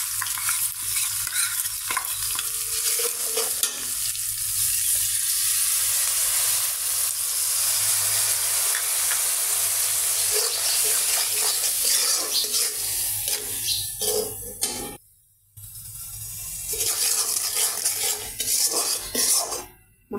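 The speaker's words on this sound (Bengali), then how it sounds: "মশলাটা ভালো করে অনেকক্ষণ ধরে কষিয়ে নেব।" Spice paste of turmeric powder, chili powder and salt frying and being stirred in a pan for fish curry, with steady sizzling, spoon scraping and clinks of cookware, briefly pausing then resuming.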